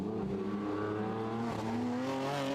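The number 81 Razoon Racing BMW race car laps Estoril in a winter series race, its engine a steady, loud, high-revving drone whose pitch climbs slightly toward the end, with no voices.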